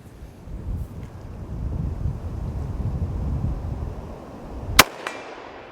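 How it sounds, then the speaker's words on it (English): A Henry single-shot rifle fires one .308 full metal jacket round outdoors at a range, a single sharp loud crack with a short echo following a stretch of wind rumble. "Now let's head to the range and let's shoot the 308"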